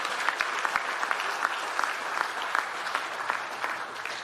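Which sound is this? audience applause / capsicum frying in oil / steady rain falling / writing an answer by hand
audience applause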